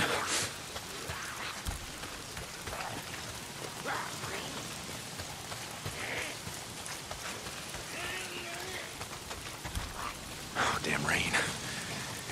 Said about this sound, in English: If it's not the freaks, it's the goddamn rain. Why is it always raining?